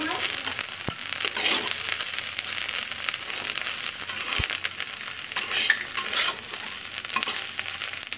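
Cauliflower frying in a wok with very little oil over low heat, a steady close sizzle with stirring and a couple of sharp spatula knocks against the pan.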